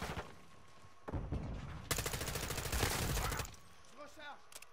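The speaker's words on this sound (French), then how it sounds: "ils nous tirent dessus depuis tout à l'heure." Dense gunfire in the video game Call of Duty Modern Warfare II, a sustained burst of rapid, loud shots in the middle, with scattered firing around it and brief game sounds near the end.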